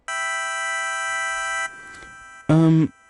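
A bright, buzzy synth playing the Chrome wavetable pitched up 12 semitones sustains one harmonic-rich chord, then cuts off into a faint delay-and-reverb tail before a short, louder, lower stab ends the phrase.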